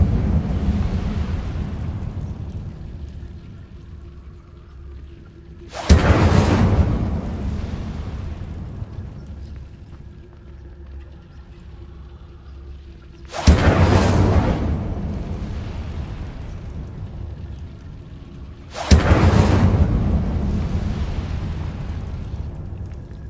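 Incendiary fire spell explosions in the Hogwarts Legacy video game: three loud, sudden blasts, each followed by a long roaring decay, spaced several seconds apart over a low rumbling background.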